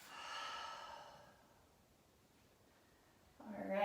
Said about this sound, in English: a long breath out through the mouth